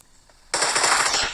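Video game gunfire erupts suddenly as a dense, continuous burst of rapid shots that keeps going loud to the end, after a quiet start.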